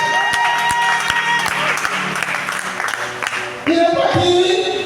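A church congregation at a Sunday service claps and cheers, dense rhythmic applause with crowd voices, loud and close, mixed with music.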